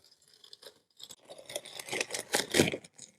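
Cardboard shipping box for an Aipas M1/M2 Xterrain ST e-bike being ripped apart by hand, a run of rough tearing and scraping bursts that start sparse and quiet and build to loud, dense rips near the end.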